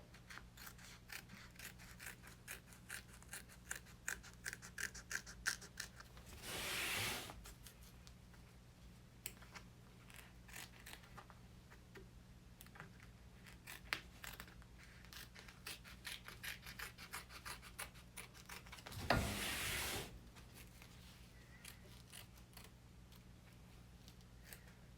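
Scissors trim vinyl fabric on an in-the-hoop koala purse with quiet, close snips and rubbing sounds, repeating irregularly throughout and broken by two brief louder rustling bursts.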